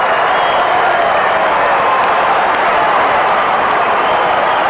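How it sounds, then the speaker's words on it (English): Adelaide Crows fans in the crowd at a 1997 AFL match against the Brisbane Lions, a steady roar of cheering and applause heard from a distance, continuous and unbroken. "So the Crows have got plenty to cheer about"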